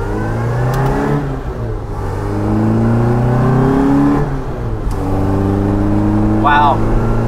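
A 1967 Austin Mini Cooper S engine pulls under acceleration while driving, a steady loud interior drone with rising and falling harmonics across several gear-like sweeps, with a voice speaking over it.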